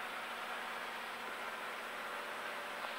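Light aircraft piston engine running a propeller check during a pre-takeoff runup, a steady broadband drone holding even throughout, close and continuous with no voices.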